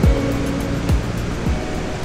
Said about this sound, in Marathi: कास तलावामधलं जे पाणी जे ओव्हरफ्लो होऊन बाहेर येतं